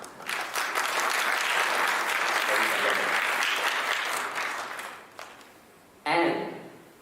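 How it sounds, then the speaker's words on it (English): Audience applause at the BNB Chain Get Connected 2022 crypto event, a dense burst of many hands clapping that fills the room for about five seconds, then thins out before a short, louder sound at the end. "So, applause."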